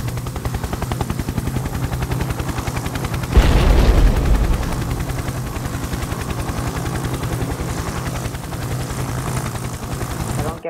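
Helicopter in the Happy Wheels video game, a continuous rapid rotor chop with a burst of louder noise partway through. It stays steady and dense for the whole stretch.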